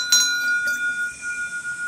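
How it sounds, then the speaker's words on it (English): A bear warning bell on a trail in Japan rings twice in quick succession, each bright metallic strike leaving a clear, sustained ringing tone that slowly fades, close and loud. "Got another bell."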